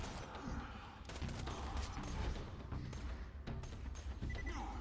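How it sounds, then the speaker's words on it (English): Enemy gunfire in the video game Borderlands 2, fairly faint bursts of rapid shots and impacts running continuously in a busy mix. "I do not like both these guys shooting at me"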